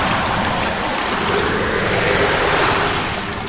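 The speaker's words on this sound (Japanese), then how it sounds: "周囲の海面では波長の短い波が高く盛り上がり、緑色に巻き崩れ、ゴーゴーと水煙になって飛んでいく" Rough sea in the Strait of Magellan, heard from a 7.5 m small sailboat: a continuous loud roar of steep breaking waves and spray driven by strong wind, steady and close with no voices.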